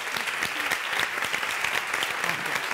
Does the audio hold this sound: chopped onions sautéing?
no